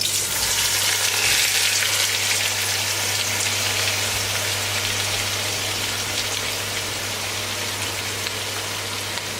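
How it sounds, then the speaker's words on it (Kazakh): Onions fry in hot oil in a pot, giving a dense, even sizzle that runs steadily throughout at close range, with no voices. "Біздің пиязымыз жақсылап қуырылды."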